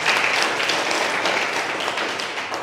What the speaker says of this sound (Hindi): ताली बजाइए के लिए.